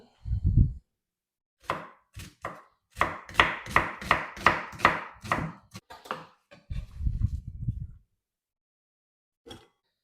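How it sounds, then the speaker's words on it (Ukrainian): A knife chops an onion rhythmically on a board, a quick run of about a dozen crisp cuts, with short bursts of low voice before and after. "Нарізаю цибульку."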